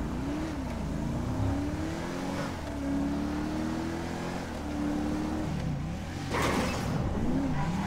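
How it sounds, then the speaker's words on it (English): A modded 2012 Dodge Charger engine in GTA V revs and drones loudly with rising and falling pitch sweeps, settling into a steady rumble before a sharp surge of acceleration near the end; no talking. "The other vehicle that I use is the Dodge Charger 2012 to 14 version. I believe this is a 12, but this one sounds like the Windsor."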